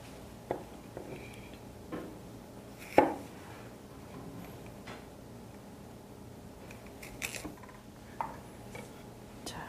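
Knife chopping onion and celery on a cutting board while preparing beef stew: a few sparse, separate thuds of the blade, one sharper knock near the middle, each short and fairly close against a quiet room.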